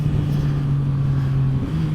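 Engine of a 2021 Yamaha MT-09 SP motorcycle holds a steady, loud drone, with a brief dip and shift near the end that suggests a gear change under acceleration.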